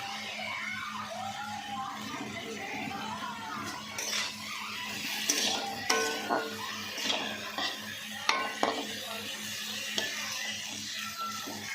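Chopped carrots go into a frying pan of hot oil with fried onions, followed by quiet sizzling and scattered clinks and scrapes of a utensil against the pan, with faint background sounds.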